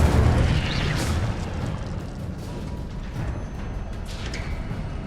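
An Incendio fire spell goes off in Hogwarts Legacy, a loud burst of whooshing flame with a heavy low rumble that fades into a sustained crackling roar over several seconds.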